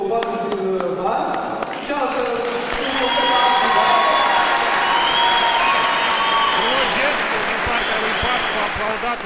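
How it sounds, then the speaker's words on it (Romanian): Audience in a kickboxing sports hall applauding loudly and steadily, with cheering and crowd noise swelling over several seconds while voices carry through the hall. "Aplaudat de întregul public prezent în sala sporturilor."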